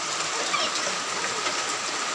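Rain pours down steadily outdoors as a young child bathes in it for the first time, a dense, even hiss of falling water close by with no voices.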